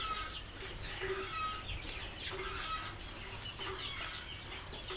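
Chickens cluck softly and steadily in a poultry farming room, a busy chorus of low calls and occasional wing flutters at moderate distance with no talking.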